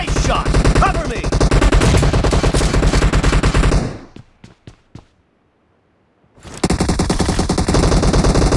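Rapid automatic gunfire in the mobile shooter Battlegrounds Mobile India, loud and continuous with game effects, then a few sharp isolated shots fading into near silence before dense firing resumes.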